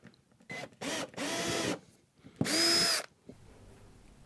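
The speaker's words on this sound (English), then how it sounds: "This is with a 2 millimeters" A power drill with a 2 mm metal bit whirs in several short bursts, close and loud, the motor pitch rising as it bites into metal drilling a pilot hole between pauses.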